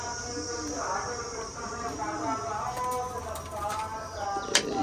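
Soft, repeated cooing of pigeons close by, with a few sharp clicks near the end and background noise throughout.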